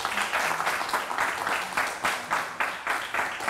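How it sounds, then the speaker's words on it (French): An audience bursts into applause, a dense wash of clapping that rises and falls in rough waves, with a few voices faintly mixed in beneath it. "ça s'applaudit"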